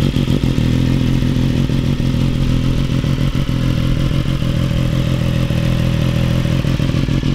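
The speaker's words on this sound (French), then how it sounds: "Démarrer la moto." An MV Agusta Brutal 675 motorcycle rated at 115 hp runs close by, its engine holding a loud, steady, rumbling idle with light mechanical clatter throughout and no voices.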